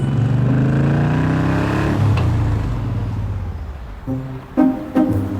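A motorbike engine runs steadily and loudly, then its tone shifts and drops away, with a few short revving bursts near the end.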